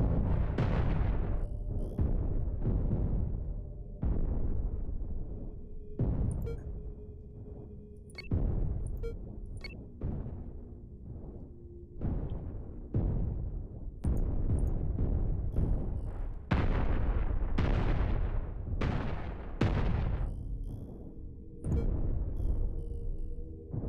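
Repeated heavy booming blasts from a mass driver ship in the space game Cosmoteer: about a dozen loud, deep shots at irregular intervals, each decaying into a rumbling tail, with small crackles and pings in between.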